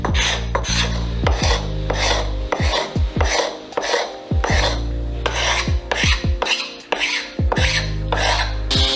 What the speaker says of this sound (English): This scraper is very useful to smooth all the contours.